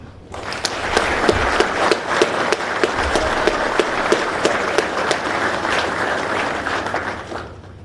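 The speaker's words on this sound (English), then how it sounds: "Please join me in a round of applause for them." A ceremony audience applauds the soldiers of the 77th Army Band at a warrant officer birthday event: a steady wash of many hands clapping, moderately loud and sustained for several seconds before tapering off.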